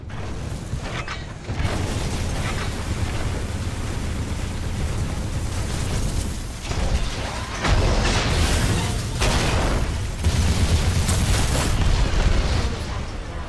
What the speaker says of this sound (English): The Harvester's getting barraged by Mortar Titans.